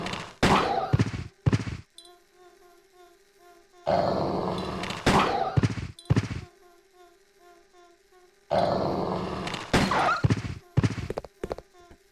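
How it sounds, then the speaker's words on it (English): Dogs in the video game Resident Evil Code Veronica X snarl and growl in repeated loud bursts, mixed with sharp impact or gunfire-like hits, separated by stretches of quiet tonal game music. "Some dogs need to die."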